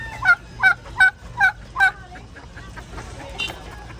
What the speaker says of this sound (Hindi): ये है टर्की